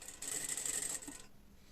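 A sewing machine topstitching a yoke inset on a plunge neckline runs in one short burst of rapid whirring stitches, close and fairly quiet, then stops and leaves near silence.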